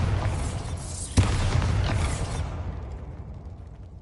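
A Bombarda spell in the Hogwarts Legacy video game goes off as a loud, broad whooshing blast with a sharp thump partway through, then rumbles and fades away, with no voices.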